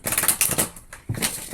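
Tarot cards being shuffled by hand, a quick run of crisp, papery riffling clicks that pause briefly and then start again, close and fairly loud with no voices.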